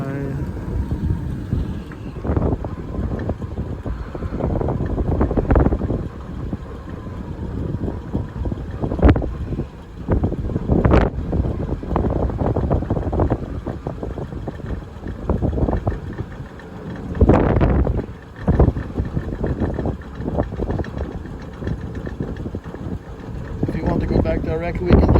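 Cold wind at Dachstein in Austria buffets the microphone in gusty, irregular blasts and rumbles, with people talking over it.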